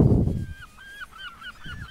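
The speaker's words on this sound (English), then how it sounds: "Look at the seagull" A seagull in the video game World's Dawn gives a quick run of high, nasal, honking calls after a burst of low rumble, close and fairly loud, repeating about six times in under two seconds.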